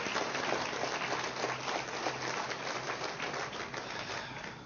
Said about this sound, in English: But I think Loretta deserves another round of applause also, don't you?